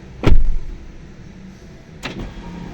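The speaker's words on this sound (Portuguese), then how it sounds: "Eu vou fechar a porta." A Geely car door shuts with a solid thump near the start, followed about two seconds later by a softer second click or clunk, then quiet interior background.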